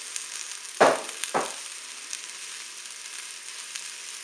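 Potatoes dropped into a hot Cookeo multicooker to fry, two sharp sizzling bursts as they hit the fat, then a quieter continuous crackle.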